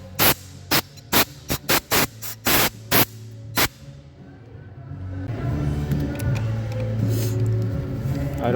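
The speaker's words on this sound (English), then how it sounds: "Just gonna blast some air on all this debris here." Compressed air blasting debris off a Toyota 4.6L 1UR engine during an oil leak repair: a rapid series of sharp, loud hissing bursts, followed by a rougher, steadier hiss with a low rumble beneath.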